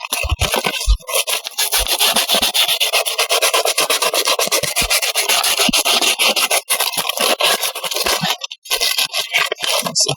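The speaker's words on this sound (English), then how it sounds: "You can also use some sandpaper." Sandpaper rubbing back and forth on a copper ground wire to clean it, a steady close, loud scraping that runs nearly continuously with only brief pauses.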